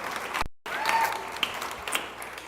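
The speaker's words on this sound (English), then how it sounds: "Round of applause." Clapping fills the room for the award winner Hannah Jackson at the Making Waves Awards 2025, a steady round of applause with one brief dropout near the start.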